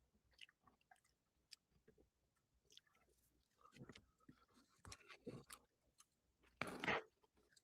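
Someone chewing and crunching food up close in irregular, moist bites with small squishes, ending in one louder crunch; no talking.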